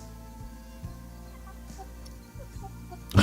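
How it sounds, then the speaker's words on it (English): Live chickens clucking close by, with scattered short soft clucks over a steady low background hum that swells into a louder burst at the end; no talking. "Living chicken up close."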